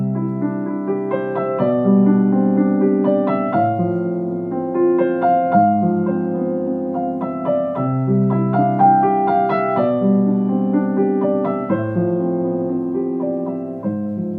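Expressive solo piano, a slow piece with sustained chords under a moving upper voice, played steadily and close with no talking.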